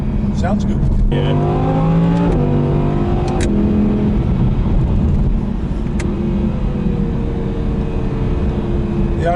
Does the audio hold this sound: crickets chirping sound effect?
no